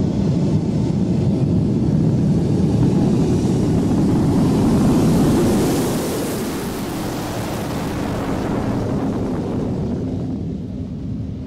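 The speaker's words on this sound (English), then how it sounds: "And another clip of the fabulous Vulcan." Avro Vulcan bomber, XH558, at Bruntingthorpe in 1999, a broad loud roar of jet engines that holds steady and then eases slightly, heard alone without voices.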